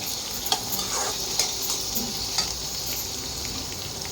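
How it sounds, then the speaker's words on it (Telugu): Onion, green chilli and curry leaves frying in oil for egg bhurji, a loud, steady sizzle close by with a few light spatula taps. "గోల్డెన్ కలర్ వచ్చే వరకు వేయించుకోవాలి"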